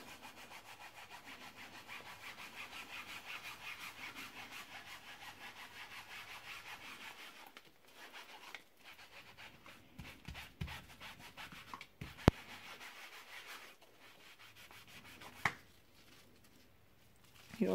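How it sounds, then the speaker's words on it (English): Cloth rubbed back and forth over a dirty mouse pad, front and back, making a soft continuous scrubbing rasp, faint and close, with a few small knocks and taps later on. "just keep rubbing the whole mouse pad"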